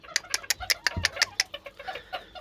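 Chickens and roosters cluck close by in a quick series of sharp, repeated calls, with a thump partway through.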